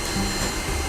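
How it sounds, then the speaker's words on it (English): A robot vacuum cleaner switches on and runs with a steady, close whirring hum for a brief moment. "Turn on the robot vacuum."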